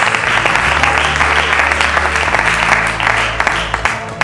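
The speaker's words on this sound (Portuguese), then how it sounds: "dê uma salva de palmas bem bonita" A church congregation breaks into steady, dense applause for Jesus during a Portuguese-language sermon, the clapping loud and sustained over a low hum, with no speech over it.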